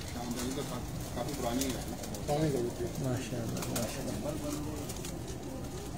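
Domestic pigeons at a Lyari, Karachi pigeon-keeping loft coo in soft, repeated rolling phrases close by, mixed with other birds and running under a man's steady conversational speech.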